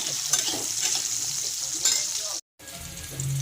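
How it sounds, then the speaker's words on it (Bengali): Steady sizzling of papaya, potato and bean pieces frying in a pan, with light stirring scrapes and a brief silent gap near the end. "পেঁপেগুলো আমি একটু ভেজে নেব। সব সবজিগুলোই ভাজতে হবে"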